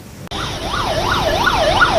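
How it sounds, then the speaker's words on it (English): Ambulance sirens wail outside a COVID-19 hospital in Gujarat, one loud, close siren rising and falling in a quick regular sweep after a brief quieter opening. "A long line of ambulances outside a COVID-19 hospital in the state of Gujarat."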